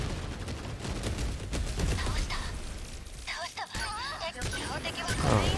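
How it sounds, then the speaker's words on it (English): Missiles fire and explode in the video game 13 Sentinels: Aegis Rim, a rapid fusillade of blasts and crashes with mechanical whirs and game effects, heard under continuous talking. "Oh, they're shooting some missiles."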